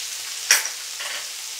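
Ginger garlic paste frying in a pan for Hyderabadi paneer masaledar, a faint steady sizzle with one brief louder burst of hissing, likely from stirring.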